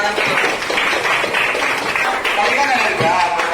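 A middle school class applauding in a classroom, a dense, even wash of clapping hands with children's voices mixed in throughout.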